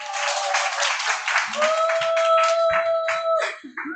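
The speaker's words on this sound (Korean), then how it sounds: "이소민 사장님 나오실 때 큰 박수 부탁드리겠습니다" Applause breaks out at a business group meeting as a presenter takes the stage, clapping rising over a sustained musical tone before fading out after a few seconds.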